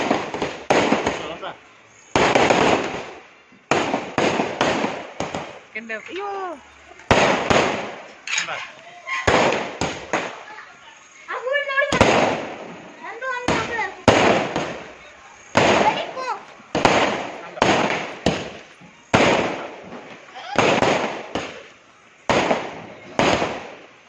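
Diwali firecrackers crack and burst repeatedly, loud sharp pops in quick succession, some spaced apart, with a few bright crackling spells between them.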